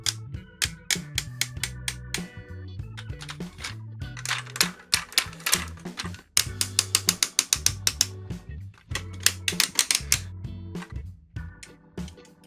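Clicking ratchet joints of a Tobot V Captain Police transforming toy robot, 2024 reissue, rapid runs of sharp plastic clicks in bursts with brief pauses, close and alone.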